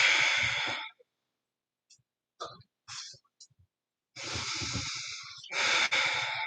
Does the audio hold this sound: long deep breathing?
yes